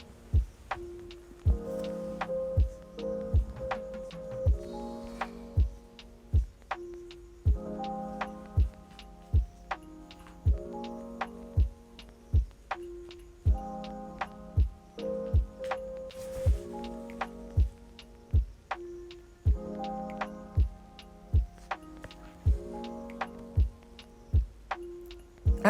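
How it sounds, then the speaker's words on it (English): A sewing machine top-stitches pieces onto a lining, producing repeated runs of fast rhythmic ticking stitches with brief pauses between passes, close and fairly soft. "You top stitch on the lining, each of them."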